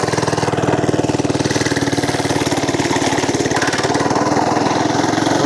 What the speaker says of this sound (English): This engine is screaming.